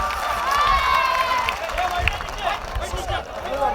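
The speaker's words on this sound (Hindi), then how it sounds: "आपने बड़ी कमजोर तालियों से इस्तकबाल किया है" Audience applause welcoming a guest at a mushaira poetry gathering in Jogeshwari East, Mumbai, a short burst of crowd clapping with voices and calls heard through it.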